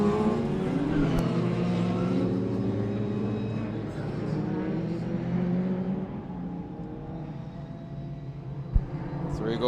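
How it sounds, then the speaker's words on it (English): A Peter Solberg-inspired Volvo rallycross race car at Mondello Park drives past with a steady engine drone, racing on a gravel-edged circuit, while a commentator talks over it throughout. "Through goes the Peter Solberg inspired Volvo"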